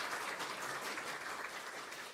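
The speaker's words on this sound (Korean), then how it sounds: "박수로 환영해 주시기 바랍니다" A church congregation claps to welcome a member who stands during a Sunday worship service, steady dense applause filling the room throughout at moderate volume.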